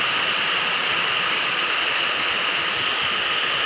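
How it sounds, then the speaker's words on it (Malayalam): Heavy rain falling outside, a dense, steady, loud hiss that continues without a break and with no voices. "പുറത്തെ നല്ല മഴയാണ്."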